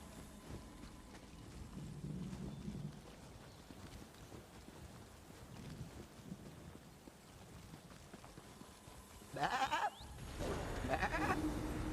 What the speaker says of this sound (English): Oh, that is a sheep.